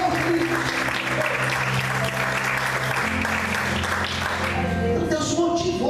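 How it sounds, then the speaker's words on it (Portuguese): A church congregation claps along through continuous applause during a worship service, with music and sustained tones running underneath, steady and fairly loud throughout. "Aplauda o Senhor, querido."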